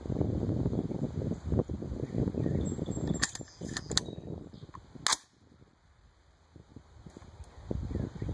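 A 6.5 Grendel rifle firing Privy 120 grain hollow point boat tail rounds: a few sharp, loud cracks stand out from the outdoor wind and rustle, the last one followed by a near-quiet stretch.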